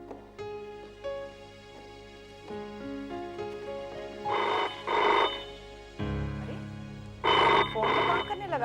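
A telephone rings in a hospital, sounding in two distinct paired bursts of ringing, loud and close, over a low sustained musical drone.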